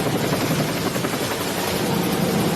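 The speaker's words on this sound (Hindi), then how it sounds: "हवा में उड़ रहा हेलीकॉप्टर अचानक अनियंत्रित हो गया और हवा में गोल गोल घूमने लगा" A helicopter over southern California with a technical fault, spinning out of control before crashing into palm trees: a steady, loud rotor and engine roar fills the whole stretch without a break, with no talk over it.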